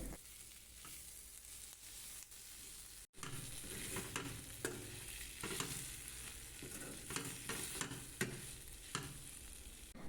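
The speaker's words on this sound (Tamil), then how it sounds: "தக்காளி வெங்காயம் நன்றாக வதங்க வேண்டும்" Continuous sizzling of onions and tomatoes sautéing in a pan, with occasional stirring scrapes over the steady crackle.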